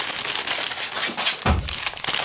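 Continuous crinkling and crushing of a plastic packet, close and fairly loud, with a sharper crumple midway.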